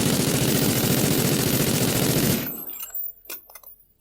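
A rapid, loud burst of automatic gunfire in the video game Call of Duty: Infinite Warfare runs for about two seconds, then cuts off into a few scattered clicks and thuds.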